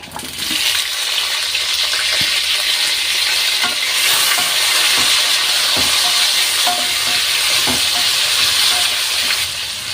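Onions, green chillies, tomatoes, shahi jeera and kasuri methi fry in hot oil for chicken fry piece biryani, a loud continuous sizzle with repeated spoon stirring and scraping close by.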